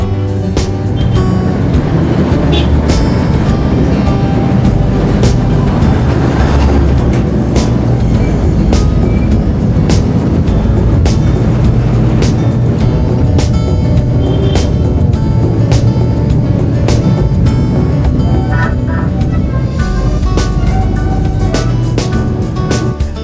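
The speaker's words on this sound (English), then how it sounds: "the parade of classic cars along the main road in Hua Hin" Vintage classic cars parade along the main road in Hua Hin, Thailand, giving a loud, continuous blend of engine rumble and traffic noise with no talking.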